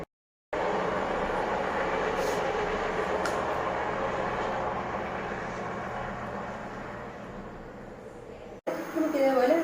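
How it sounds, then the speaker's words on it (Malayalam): A passing train gives a continuous loud rumble and rattle that slowly fades over several seconds before cutting off, with a different noise and a voice briefly at the end. "ട്രെയിൻ പോവാണ്."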